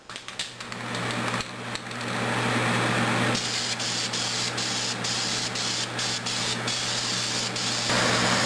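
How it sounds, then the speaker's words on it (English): Enamel spray primer hisses from an aerosol can onto a 1/35 scale Zvezda KV-2 model tank in long continuous bursts with brief gaps, close and steady. "So the first step in my painting process is that I'm going to use a coat of primer."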